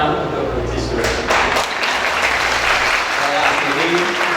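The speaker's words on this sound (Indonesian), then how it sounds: "saya rasa perlu kita beri tepuk tangan untuk Provinsi Sulut" Audience applause for the province of North Sulawesi at a Bank Indonesia teaching program event, a loud, dense wash of clapping that runs steadily through the whole stretch with a few heavier thumps near the start.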